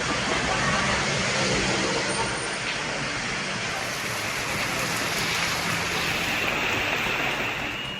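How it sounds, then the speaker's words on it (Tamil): Moderate rain falling steadily around Omalur in Salem district, a dense, even hiss of drops on surfaces with faint traffic beneath, continuous and unbroken throughout. "சேலம் மாவட்டம் ஓமலூர் சுற்றுவட்டார பகுதிகளில் மிதமான மழை பெய்தது"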